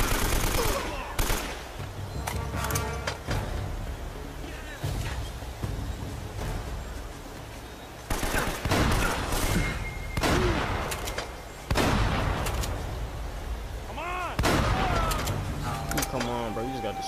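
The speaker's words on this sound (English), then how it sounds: "Damn, bro, you just got destroyed by a shotgun" Shotgun blasts and other gunfire in Uncharted: Drake's Fortune, loud booming shots scattered irregularly amid game effects, with people talking over the action.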